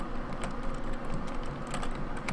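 Computer keyboard arrow keys tapped repeatedly while playing Kerbal Space Program, giving a quick, irregular run of close, crisp clicks with no talking over them.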